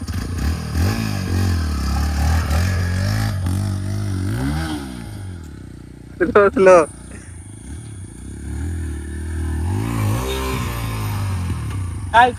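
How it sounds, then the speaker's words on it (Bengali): A TVS Raider 125 kick-start model motorcycle engine idles with a low, throbbing rumble, revs up sharply a few times, then settles again, fairly close and loud. "তো আমি একটুখানি বাইকটা স্টার্ট করে দেখছি"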